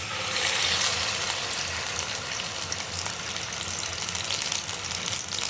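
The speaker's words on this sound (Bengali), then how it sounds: "তেলটা আমার গরম হয়ে গেছে আমি যে চিকেনটা কিমা করে রেখেছিলাম এর মধ্যে দিয়ে দিচ্ছি" Minced chicken dropped into hot white cooking oil gives a steady, broad sizzle and hiss that holds loud and close from start to finish.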